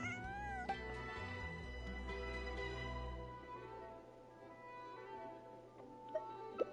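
A cat meows inside the video game Genshin Impact, a few short tonal calls over a steady bed of game music and ambience, moderately loud and without speech.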